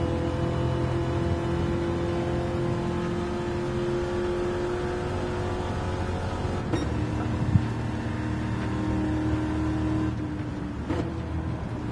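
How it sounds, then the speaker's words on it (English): A NASCAR race car runs on a high-speed ring track with a sustained loud onboard engine drone that stays steady throughout, with slight pitch shifts and a couple of brief dips, and no talk. "I'll stick on board here with these lovely engine noises"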